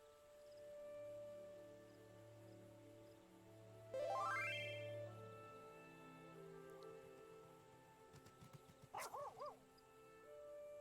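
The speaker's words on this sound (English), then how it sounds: "That was a dog! Oh, that was a Shibu!" Dog barking in the Final Fantasy XIV video game, a short burst of yips and whimpering rising in pitch amid background game music and ambience, followed later by a couple of brief squeaky calls.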